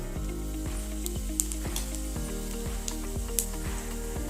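Cumin seeds sizzle steadily in hot oil in a pan, a continuous close frying hiss broken by small crackling pops throughout.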